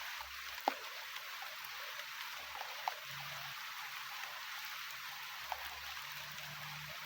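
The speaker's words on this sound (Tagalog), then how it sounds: "medyo lumakas yung ulan." Steady rain falls outdoors as a constant, even hiss, with occasional louder drops tapping nearby and no one talking.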